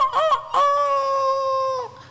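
A rooster crows up close, a loud harmonic call opening with two short notes and then one long sustained drawn-out crow that cuts off near the end; no talking.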